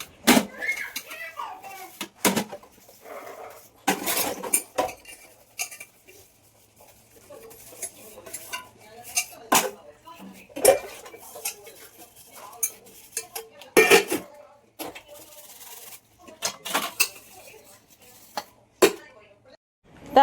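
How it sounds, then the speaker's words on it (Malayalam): Dishes and pots clatter and clink in irregular bursts as they are washed, with sharp knocks of metal and faint background voices in between. "പാത്രമെല്ലാം സോപ്പിട്ട് വെച്ചപ്പോഴത്തേന്"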